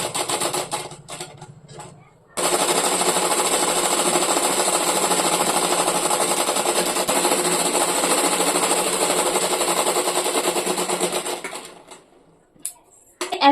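Stitching blouse fabric parts together, a sewing machine hums through a long, steady run of rapid needle rattling after a few brief starts and handling noises, then stops and leaves scattered clicks near the end.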